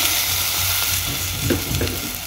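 Chickpea and potato gravy stirred in a clay pot, a dense bubbling sizzle with a couple of scraping stirs, close and steady over a couple of seconds.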